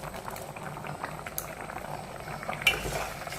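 Water bubbling at a steady simmer in a pot with rice, cinnamon, cloves and cardamom added, a continuous soft burble with a brief clink of metal near the end.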